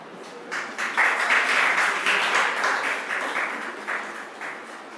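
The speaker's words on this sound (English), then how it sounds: "A big round of applause for all the teams." An audience at a one-day teachers' life-skills training session applauds the teams, a moderate patter of many hands that swells, holds for about four seconds and then eases off.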